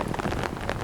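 Rain pours down steadily along a riverside park path in Toronto, a dense, even hiss of drops striking nearby surfaces, fairly close and unbroken, with no voices.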